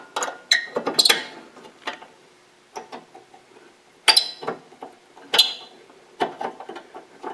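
A TV screen mount is screwed in with an Allen wrench, giving a series of close metallic clicks, ticks and clinks in irregular bursts with quiet gaps between them.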